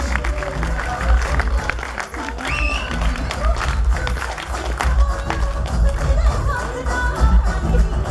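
A studio audience at a televised mock-courtroom show gives a loud, dense round of applause to welcome a guest, continuous clapping with some crowd noise throughout.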